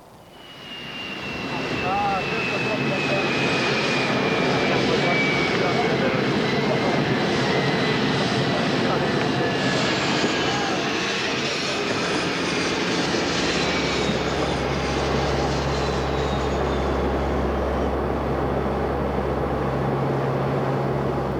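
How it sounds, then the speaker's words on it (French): A fixed-wing airliner's engines roar in a loud, steady drone throughout a flight arriving at Sarajevo, with a deep low rumble building toward the end. "La première impression, déjà, c'est l'arrivée en avion sur Sarajevo."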